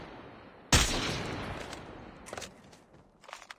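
In the Call of Duty Mobile video game, a single sharp gunshot cracks loudly and rings out with a lingering tail, followed later by a couple of fainter, more distant shots.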